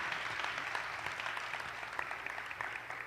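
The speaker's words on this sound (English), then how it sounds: "Can we join in giving a big round of applause to welcome Bhakti Marg Swami?" A steady round of audience applause at a Ram Navami gathering welcoming Bhakti Marg Swami, dense and continuous throughout, heard at a distance and fairly faint.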